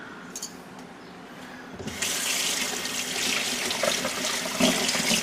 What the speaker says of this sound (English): always rinse your whisk as soon as you're done using it